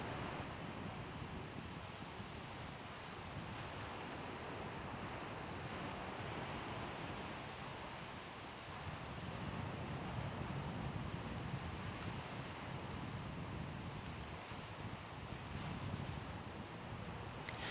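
Ocean waves break in the surf zone on a beach, a continuous broad wash of surf with gentle swells in intensity, steady and moderately faint, mixed with wind noise and no voices.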